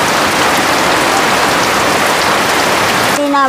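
Heavy rain pouring steadily on a surface, a dense loud hiss throughout, cut off at the end by a brief voice.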